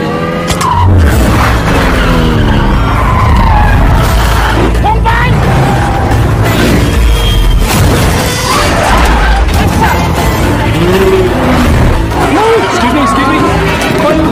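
A car brakes hard and its tires skid and squeal, loud and close, in a tense action-film chase full of engine roar and crashing noise, with voices talking over it.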